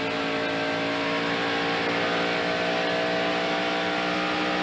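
Race car engine screaming at full speed down the straightaway of a mile-and-a-half oval during the 1992 Hooters 500, a loud, continuous high-revving drone that holds steady and close the whole time.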